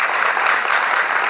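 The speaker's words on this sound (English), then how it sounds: "Please give him a round of applause." Audience applause at the Te Whatu Kairangi 2025 awards ceremony, a steady dense wash of clapping from a large crowd, even and sustained throughout with no voices.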